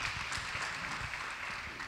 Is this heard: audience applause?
yes